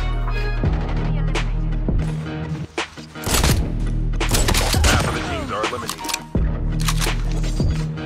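BY15 shotgun firing in Call of Duty, loud heavy blasts in quick succession with in-game action noise between shots and no talking.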